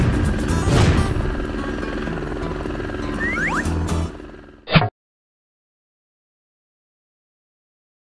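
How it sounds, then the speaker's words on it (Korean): Cartoon fire helicopter from a children's animated story about vehicles, its rotor whirring loudly over busy effects, then a sharp swoosh and abrupt silence. "소방헬기의 멋진 모습을 보여줄게."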